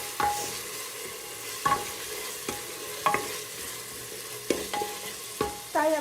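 Chicken pieces fry in hot oil for chili chicken, a soft steady sizzle broken by several sharp scraping stirs of a spatula against the pan at irregular intervals.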